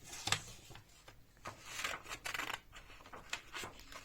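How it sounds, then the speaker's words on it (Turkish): Several crisp snipping cuts, irregular and close by, with soft rustling of paper between them. "Şimdi makasla keseceğiz."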